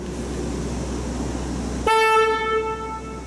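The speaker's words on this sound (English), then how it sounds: "so here's the horn" Horn of a 2008 Ford Escape XLT V6, sounded once in a single sustained high-pitched blast of a bit over a second that cuts in abruptly over steady low background rumble, loud and close.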